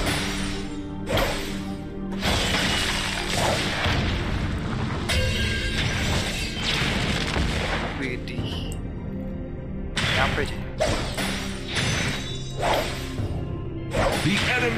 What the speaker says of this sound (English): The enemy's turret has been destroyed.